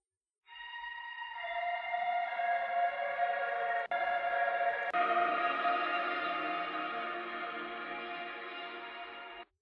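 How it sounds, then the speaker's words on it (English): Reverb-drenched intro track in a rock mix, a sustained, washy tonal swell that fades in and holds steady, with a soft click partway through. "let's see if we can make use of that intro reverb track"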